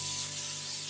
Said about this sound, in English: I'm going to give this 16x9 casserole dish a dose of cooking spray.